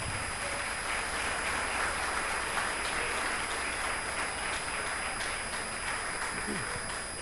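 A church congregation claps and stands, producing a dense, continuous wash of applause with voices mixed in throughout, steady and fairly loud.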